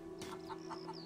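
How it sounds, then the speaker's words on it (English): A chicken in the A Plague Tale video game clucks several times in a quick, uneven series of short calls, fairly quiet over a steady low hum, with no talking. "Come here, chicken."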